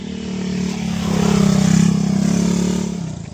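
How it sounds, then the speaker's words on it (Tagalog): A motorcycle passes on a rural road near a coconut grove, its engine drone swelling steadily as it nears and then fading slightly, loud and close with no talk. "Yan, may motor."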